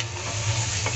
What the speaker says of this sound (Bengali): ভালোভাবে ভেজে নেব মশলা